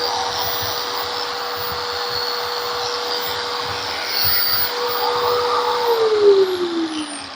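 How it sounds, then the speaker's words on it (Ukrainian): A 980 W angle grinder whines steadily with a high-pitched motor tone and broadband grinding hiss, its pitch sliding near the end as it spins down. "Вімкнемо булгарочку."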